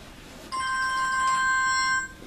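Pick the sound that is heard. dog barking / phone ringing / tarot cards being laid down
phone ringing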